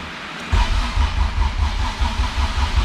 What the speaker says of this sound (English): I know it's gonna crank, but see if she starts.